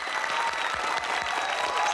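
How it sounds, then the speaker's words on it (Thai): A studio crowd on a Thai competition show applauds the four Beta contestants, a full, continuous wash of clapping with faint voices underneath. "ขอเสียงปรบมือให้กับเบต้าทั้ง4คนด้วยครับ"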